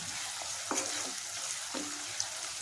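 Curry leaves with salt and chili powder frying in a pan for crab and brinjal curry, a constant bright sizzle close by with a few soft stirring scrapes.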